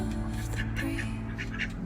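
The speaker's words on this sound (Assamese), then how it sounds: "হাঁহো পুহিছে" Domestic ducks, one female and two males, quack in short bursts close by against steady low background noise, with faint talk in the background.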